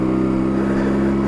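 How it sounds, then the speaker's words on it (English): A motorcycle engine revs high and steady just before a gear change, a loud, close, sustained buzzing drone. "See, it's revving high and it wants me to change gears."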